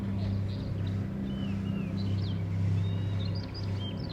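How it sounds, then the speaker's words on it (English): Birds chirp and tweet faintly inside the metal-framed glasshouse at Kew Gardens in London, short high calls scattered over a steady low hum. "You can hear all the birds going."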